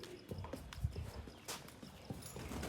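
A stallion's hooves clop irregularly on hard ground nearby, a few steps and shuffles with soft background noise, fairly quiet overall.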